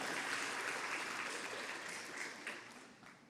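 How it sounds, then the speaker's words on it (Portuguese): A Brazilian church congregation gives a round of applause for Jesus, a broad wash of many clapping hands that swells briefly and fades slightly, heard alone without speech. "dá mais uma salva de palmas para Jesus"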